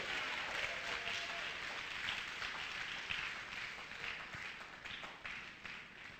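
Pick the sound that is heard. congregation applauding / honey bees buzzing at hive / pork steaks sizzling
congregation applauding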